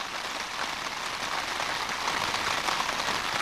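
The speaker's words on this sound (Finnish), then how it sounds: "Sade yllätti retkeilijät." Rain falls steadily in Käsivarsi Lapland as a dense, even hiss of drops pattering on surfaces, constant and moderately loud throughout with no voices.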